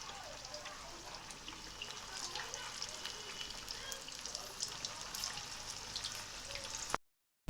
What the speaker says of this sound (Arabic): هنبتدي بقى نحمر. ادحنا الزيت معايا اهو سخن كويس اهو